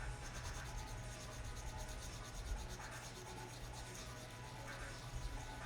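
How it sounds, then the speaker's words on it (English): Steady, close scratchy rubbing of light sanding on small plastic parts of a 1/35 M1A2 tank model, continuous with slight rhythmic strokes and no talking. "So just some light sanding"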